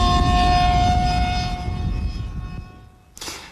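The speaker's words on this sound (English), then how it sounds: "The jets, if you like, are a bit like the Formula One of model aircraft flying" A model jet aircraft flies past, its engine a loud, steady high-pitched whine with strong tonal harmonics over a broad roar, gradually fading as it moves away before a brief burst of noise at the end.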